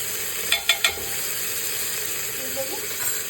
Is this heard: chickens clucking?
no